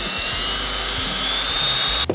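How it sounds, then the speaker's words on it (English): A high-pitched power drill whines steadily and loudly, grinding through metal rivets on a 2022 Subaru BRZ intake, then cuts off abruptly at the end. "My method is going to be to drill them out."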